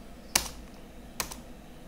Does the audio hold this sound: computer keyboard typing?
yes